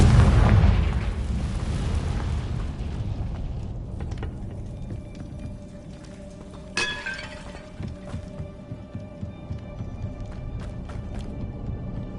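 The Confringo blasting spell explodes in Hogwarts Legacy with a loud booming burst that decays slowly. Crumbling, clinking debris and smaller rumbles follow, with a sharp crack midway.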